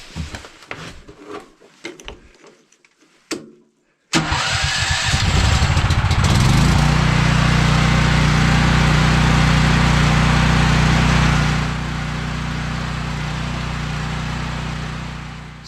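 A generator is pulled to life in the cold after a few short rattling attempts, then catches and settles into a loud, steady close-up running drone that eases slightly in pitch and level toward the end.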